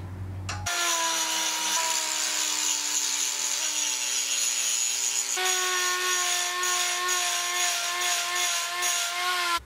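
A lump of forged steel on a flatter tool is cut off with a power saw, a loud steady whining cut after a brief start, its pitch shifting slightly partway through, with no talk.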